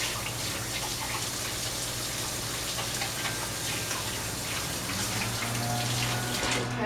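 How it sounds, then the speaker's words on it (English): Hands being washed under running tap water in a kitchen, a steady, fairly loud rushing stream that fills the whole stretch with slight splashing variations and no voices. "I'm going to wash my hands quickly"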